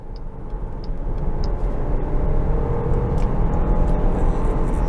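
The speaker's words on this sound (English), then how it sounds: "I'll roll into the throttle here, accelerating onto the highway" A Jeep Grand Cherokee 4xe plug-in hybrid accelerates onto a highway, heard from inside as a steady rising road and engine roar, broadband and continuous, with light ticking above it.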